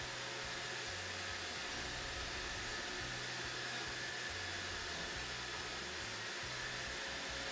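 A robot vacuum cleaner, either an iRobot Roomba 605 or an Ecovacs Deebot N79S, runs with a steady, loud, close whooshing motor hiss and a low droning hum that shifts slightly as it moves.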